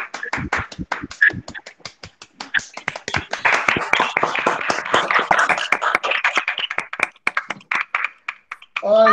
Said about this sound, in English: Clap to all the teachers.